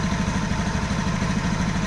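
A Honda automatic scooter engine idles steadily at 1600 RPM, a loud, even, low throbbing hum with a faint mechanical clatter, heard close up with no talking.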